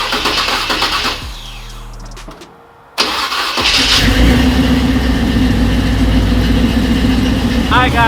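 A 1983 Chevrolet C10 pickup's engine cranks with a rhythmic starter churn, pauses briefly, then fires and settles into a loud, steady, close idle with a deep rumble.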